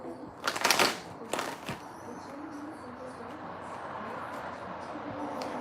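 Cards are shuffled in a few quick riffling bursts up close, followed by soft room noise with faint murmuring.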